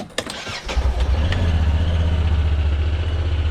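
A 2022 Honda Pioneer 1000 UTV cranks over briefly with a few clicks, catches, and settles into a steady low, close idle that carries on alone to the end.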